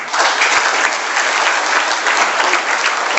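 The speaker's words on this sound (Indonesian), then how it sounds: "Berikan aplaus dulu." An audience bursts into steady, dense applause at a grand launch event in Jakarta, loud and sustained clapping from a full crowd throughout.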